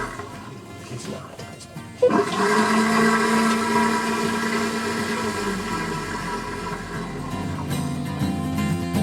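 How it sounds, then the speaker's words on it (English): A marine toilet on a sailboat being flushed with antifreeze, a sudden loud start into a sustained rushing, gurgling pump-and-water roar that continues for several seconds before easing slightly. "Now flush the toilet a whole bunch."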